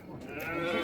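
A sheep bleats at a busy livestock market where a ewe and her lamb are being sold, a short wavering call heard close against faint background murmur.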